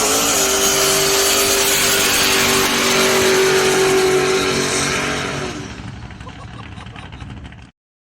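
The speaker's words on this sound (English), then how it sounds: "laid out a big burnout like this one" A 1966 truck lays down a loud street burnout, its engine held at a high sustained roar for about five seconds before dropping to a rougher, lower rumble that cuts off abruptly.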